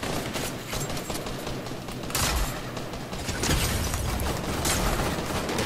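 Rapid gunfire in the Fortnite video game, a dense, continuous burst of shots and clattering impacts that swells louder partway through, close and harsh with no talk over it.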